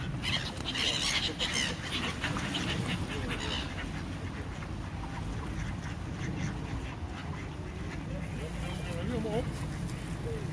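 Ducks and other birds quack and honk while being fed bread, their calls rising repeatedly over nearby voices talking outdoors.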